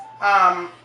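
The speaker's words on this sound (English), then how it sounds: "Sorry, that was my phone." A phone notification or ringtone, one short bright tonal chime under a second long, swelling quickly then fading, with no talking.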